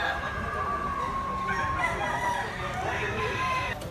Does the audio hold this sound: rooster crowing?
yes